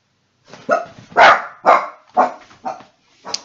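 A dog barks about seven times in a quick, close, loud series with no other sound around it.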